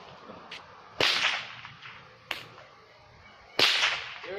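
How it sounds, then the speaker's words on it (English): Three sharp, loud whip cracks at irregular intervals over a steady outdoor background hiss, with a fainter snap between the first two and a brief echo trailing each crack. "You're not allowed to have a fucking whip. It's not a gun."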